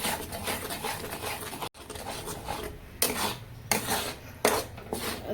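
A spoon scrapes and stirs in a pan on a gas stove while an egg curry is being made, with repeated gritty scraping strokes and clinks of metal, close and fairly loud, no talk.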